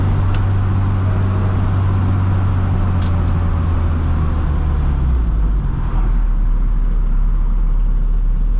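A 1965 Austin Mini Cooper S driving, its engine a loud, close, continuous low drone with road and wind noise, the pitch sliding lower partway through as it eases off.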